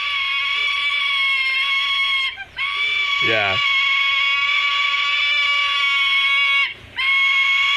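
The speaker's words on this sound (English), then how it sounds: "It's a sulfur-crested cockatoo screaming for its mother to feed it." A young sulfur-crested cockatoo screams loudly and continuously for food, a harsh, grating shriek held for seconds at a time with brief breaks; a voice speaks briefly underneath.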